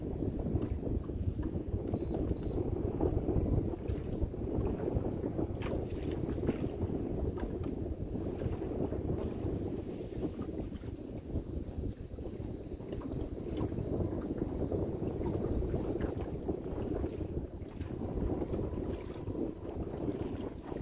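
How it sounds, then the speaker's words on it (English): Constant wind buffets a boat out on the water, a steady rushing roar with microphone wind noise throughout, loud and close, with no voices. "Wind's kind of constant right now."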